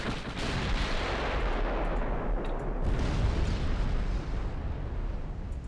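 Heavy naval gun salvo from warships in the naval combat game Ultimate Admiral Dreadnoughts, a dense, continuous roar of booming shots and rumbling blasts running loud throughout with no talk.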